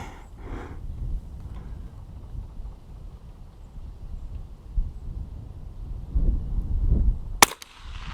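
A single sharp .22 LR rifle shot with Federal Hunter Match ammunition cracks near the end, fired outdoors at a target about 50 yards away, following several seconds of wind and faint background noise.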